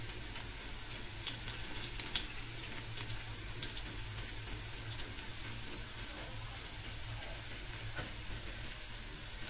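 Garlic and chilli fry in a pan with a steady, soft sizzling hiss, with faint scattered ticks and pops throughout.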